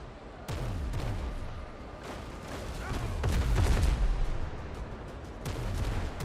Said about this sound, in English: Don't slow down when I'm finally starting to shoot back at you.